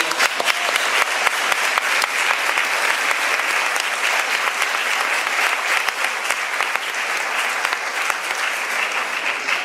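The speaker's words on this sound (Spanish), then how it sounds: "Este aplauso es para Eva Perón, que se merece eso y mucho más." A large crowd at a literary event in Rosario, 2018, applauding steadily, dense clapping that holds at a loud, even level throughout with no voices standing out.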